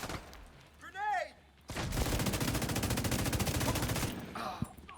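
Video game gunfire arrives as a long, rapid automatic burst of evenly spaced shots, loud and close, after a brief stretch of speech and a swooping tone; a short spoken bit follows as it stops.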